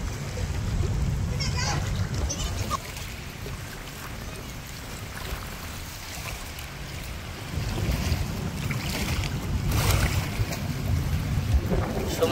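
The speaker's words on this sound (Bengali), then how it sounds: "আজকে ঢেউটা বেশি।" River waves splash and wash along a bank on a windy morning where boats are about, rising and falling in steady surges with wind noise throughout.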